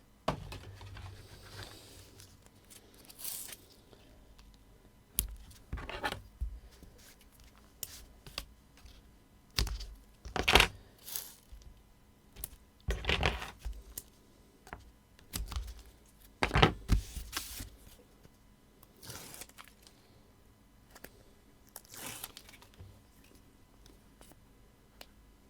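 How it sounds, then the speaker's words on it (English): Foam tape peeled and pressed onto paper while making a sketchbook card, a run of soft crackly peels, squishy presses and taps scattered across a quiet background, close and intermittent with no talking. "I'm just going to use my foam tape"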